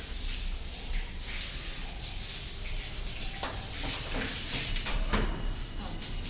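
A pressure hose sprays water while a building is washed down, giving a continuous loud hissing rush with scattered splashes and a voice briefly audible.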